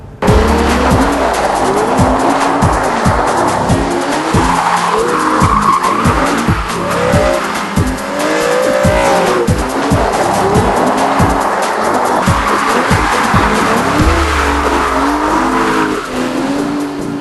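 An Aston Martin front-engine, rear-wheel-drive GT drifts on a track, its tires squealing continuously under a loud, revving engine that rises and falls through repeated gear changes, close and unbroken throughout.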